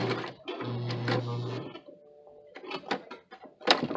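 A vintage sewing machine stitches through bulky fabric in uneven bursts of whirring and clattering, pausing briefly midway before resuming with stuttering, labored runs.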